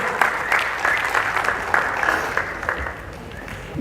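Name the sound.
audience applause welcoming the poet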